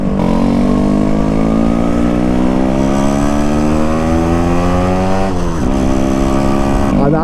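A Yamaha RX100 100cc two-stroke motorcycle engine runs loud and close throughout, its harmonic drone climbing steadily as it revs, with a brief dip and recovery near the end.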